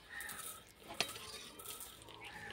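A pot of cooked rice is lifted off a kitchen stove, giving a single sharp metallic clink among soft scraping and faint background sizzle, quiet and with no talk.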